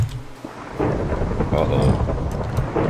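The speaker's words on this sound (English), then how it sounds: "Thunder and lightning." Thunder rumbles and rain pours in the Minecraft video game, a loud, continuous storm wash with swelling rolls of thunder, while a voice speaks briefly over it.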